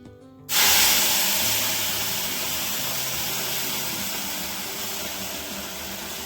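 Spinach paste dropping into a hot kadhai, a sudden loud burst of sizzling hiss that starts sharply and slowly fades while staying strong and continuous.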